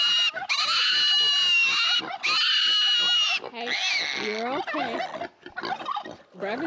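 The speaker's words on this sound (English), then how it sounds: "she's just the cutest little pig" A pig squeals loudly and repeatedly at close range, long shrill piercing cries that break into shorter wavering squeals and grunts toward the end.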